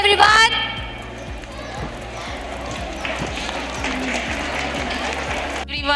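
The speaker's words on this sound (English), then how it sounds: "Have a huge round of applause, everyone." An audience claps at a school investiture ceremony, a steady, moderately loud crowd applause with rhythmic thumps running underneath, opening briefly with a voice over a speaker system.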